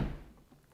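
A single soft thunk as the door of a Polestar 4 electric car is shut, quiet and close, then fading into near silence.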